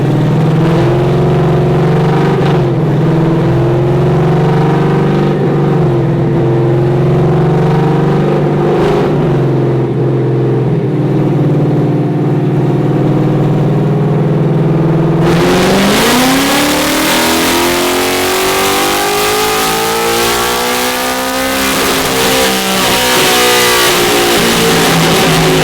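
A nitrous-equipped Mustang engine revving on a dyno during a pull, loud and sustained, holding a steady drone before sharply climbing in pitch and intensity through a long full-throttle run.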